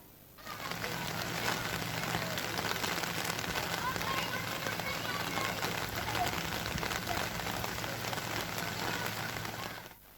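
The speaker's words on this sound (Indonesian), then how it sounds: "Hujan deras yang mengguyur Kota Makassar sejak Jumat dini hari" Heavy rain pours down on Makassar, a dense, even hiss of drops on surfaces that holds steady throughout with no break.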